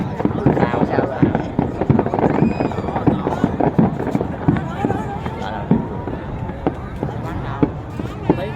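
New Year 2024 fireworks display over Can Tho city in Vietnam, with dense rapid crackling bursts and booms continuing throughout while onlookers talk and exclaim nearby.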